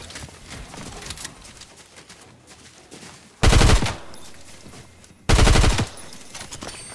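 Sniper rifle gunfire in the video game Fortnite: two loud, sharp shots a couple of seconds apart that stand out over quieter game background noise.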